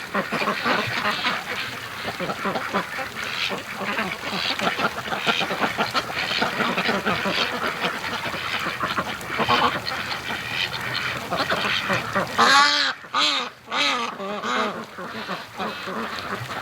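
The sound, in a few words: flock of free range ducks quacking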